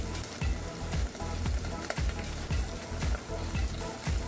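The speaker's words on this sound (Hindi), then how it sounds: "फिर मैं चिकन ऐड कर दूँगी।" Garlic and then chicken frying in a pan, a loud steady sizzle broken by rhythmic clanking of a utensil stirring about twice a second, close by with no talk.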